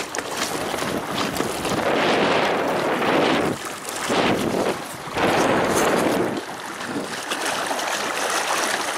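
Strong wind and big waves buffet an inflatable pontoon driven by a Haswing Osapian 36 lb electric outboard, a loud, surging roar of gusts and splashing that swells and eases in waves.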